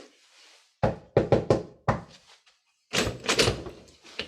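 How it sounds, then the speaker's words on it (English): Door sound effect in a classic radio comedy show, a run of sharp knocking thumps followed by a louder rattling open, close and clear, with no voices. "Let's see who's behind this door."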